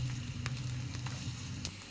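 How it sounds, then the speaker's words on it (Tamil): Chopped onion sautéing in hot oil in a pan, with a steady close crackling sizzle running throughout and a few sharper pops scattered over it. "பொடியாக நறுக்கின வெங்காயம், ஒரு குட்டி வெங்காயம் போட்டுக்கோங்க, கொஞ்சம் வதக்கிடுங்க"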